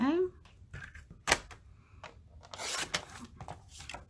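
Cardstock being cut to size for a card base during a stamping session: a sharp close slice followed by a longer rasping cut, with a person talking quietly between the cuts.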